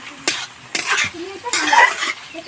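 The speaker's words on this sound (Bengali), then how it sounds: "আর নেড়ে দিব আমি এখন" A spoon stirs coriander powder and cumin in a pan while a sweet pumpkin dish is cooked. A few close scraping strokes rasp against the metal, with a faint sizzle underneath.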